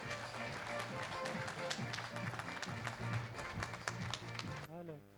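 An audience in a hall claps to welcome a speaker onstage, a patter of many hands running steadily under a voice that talks over it before it fades out.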